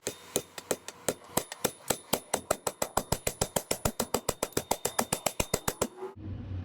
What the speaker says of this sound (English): all we need is a good old hammer and the anvil part of my vise